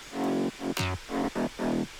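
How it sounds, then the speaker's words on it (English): Short bass one-shot samples from a second layer in an FL Studio remake, several sustained hits in a row with a quick pitch-sweeping stab in the middle, clean and alone. "And this is the second layer of one shots."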